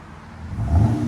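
A RAM 3.6L V6 truck engine revs up through a Magnaflow-style muffler, a short swelling rumble that peaks and holds, close by with no talking.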